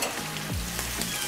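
Garlic frying in a pan, a steady soft sizzle and crackle throughout a brief moment, close and moderately loud with no talking.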